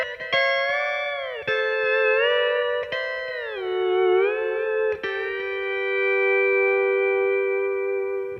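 A pedal steel guitar plays a slow country waltz intro, each plucked chord ringing out and bending smoothly in pitch as the pedals shift, with sustained tones between soft picks.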